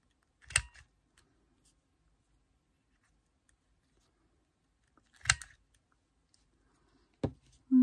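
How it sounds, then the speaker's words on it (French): Scissors snip the corners of paper at an angle for a marine-themed scrapbook collage, two short crisp cuts spaced several seconds apart with quiet handling between, close and alone. "je vais découper mes angles"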